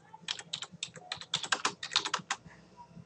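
Keys clack in an irregular run on a computer keyboard, a burst of roughly twenty close, crisp taps with brief pauses, alone with no talk.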